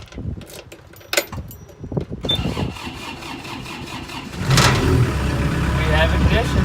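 A skid steer's engine is cranked with a key and catches, settling into a rough idle before revving up louder and holding a heavy, steady drone close by; a voice is heard near the start.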